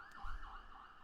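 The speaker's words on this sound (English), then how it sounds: "why is every time I'm recording like there's sirens?" An emergency vehicle siren wails outside in a city, faint and distant, its pitch sweeping up and down in a slow wavering pattern over a low background rumble.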